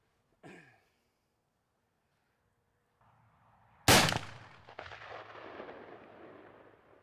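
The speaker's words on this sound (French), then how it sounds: "Là je viens de faire un tir un peu mauvais avec le bipied." A single rifle shot fired from a bipod cracks out loud and close, then trails off into a long rumbling echo, with a faint brief knock shortly before it.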